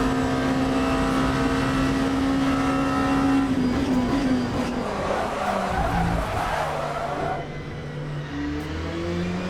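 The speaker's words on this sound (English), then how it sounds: "I locked up the rears going in there" Race car's rear tyres locking under braking into a corner: a steady high engine note drops away as a rough skidding scrub smears across, then the engine picks back up, all loud and close from inside the car.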